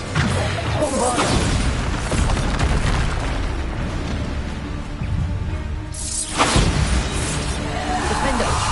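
A Bombarda spell explosion in Hogwarts Legacy: heavy, dense blasts with a loud burst early on and another after a brief lull, all under thick game effects and a voice.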